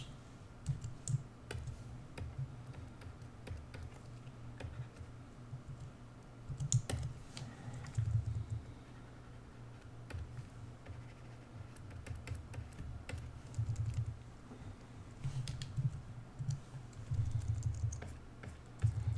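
Computer keyboard keys being tapped repeatedly during digital coloring, mostly the bracket keys: soft, close clicks in irregular bursts and clusters with short pauses, quiet and continuous, with no talk.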